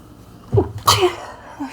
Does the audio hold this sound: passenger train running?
no